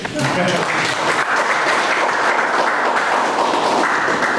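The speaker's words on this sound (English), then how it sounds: "Now can we clap for Professor Toto again?" An audience at a university cyber school launch applauds Professor Toto with a loud, sustained wash of clapping that stays steady and dense throughout, with voices mixed into the crowd noise.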